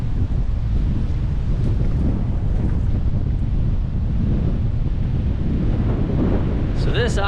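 Strong wind of around 35 knots batters the microphone on the windward shore, a loud continuous roar and buffeting with surf rumbling beneath, and a brief high squeak near the end.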